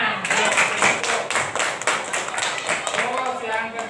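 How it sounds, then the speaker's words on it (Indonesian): Children in a classroom clap their hands in a fast, rhythmic patter of many overlapping claps, close and fairly loud, with voices mixed in. "beri tepuk tangan"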